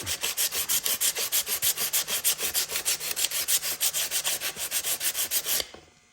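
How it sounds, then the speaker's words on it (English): Sanding by hand on anodized aluminum trim from a K5 Blazer: steady rhythmic back-and-forth rasping strokes, close and fairly loud, about five per second, stopping abruptly near the end. "So what we'll do, after the picks are on, we'll give it a sand."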